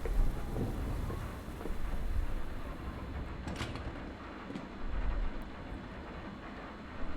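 A storm rages outside in the video game Kentucky Route Zero, a steady, heavy rush of wind and rain with low rumbling, continuous and fairly loud throughout.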